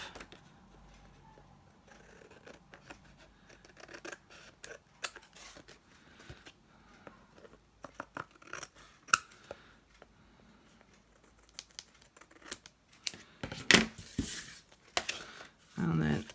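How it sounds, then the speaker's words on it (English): Scissors trim excess card along a card guide in a quiet room, giving faint, scattered snips and rustles that grow louder and denser near the end. "I can trim off the excess using the card as the guide"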